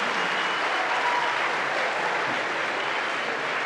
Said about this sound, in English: Not sure who's getting the applause